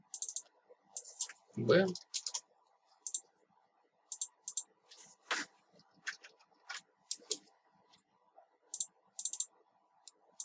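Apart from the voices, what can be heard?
computer keyboard keys pressed while drawing in AutoCAD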